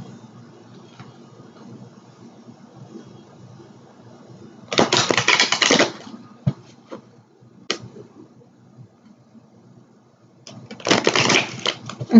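Tarot cards being shuffled and drawn during a reading: two loud rustling riffles of the deck plus a few small card taps, close up, in an otherwise quiet room.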